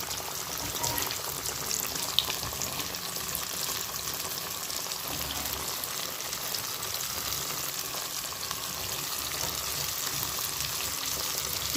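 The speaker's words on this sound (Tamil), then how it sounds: "சிக்கன் நல்லா வேகட்டும்." Chicken pieces fry in hot oil for homemade KFC-style chicken, giving a dense, even sizzle that holds steady and close for the whole stretch without any talking.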